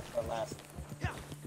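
Horse hooves clip-clop faintly in a video game as a posse mounts up, a soft irregular patter under steady talk.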